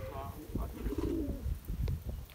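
Teddy pigeons from the border region coo in rolling, throaty bursts, close and fairly loud, while a voice briefly murmurs nearby on a breezy day.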